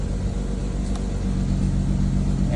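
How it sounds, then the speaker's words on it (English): Car exhaust note in sport mode just after dropping off fast idle, a steady deep rumble that fills up and grows fuller toward the end, heard up close with no talking. "there you can hear that definitive difference in that exhaust note"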